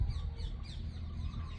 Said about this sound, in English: And then we have migrating birds.